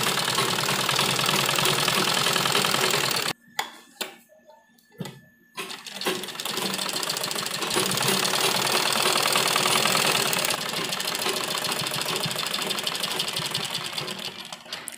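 A sewing machine stitches school-uniform salwar fabric with a fast, loud, steady mechanical whirr. It breaks off briefly for a few clicks and handling noises, then resumes continuous stitching close by.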